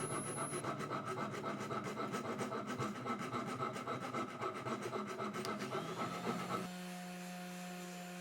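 A rasp scrapes steadily across wood in fast, rhythmic strokes for several seconds while shaping a swimbait, then stops, leaving a low steady hum.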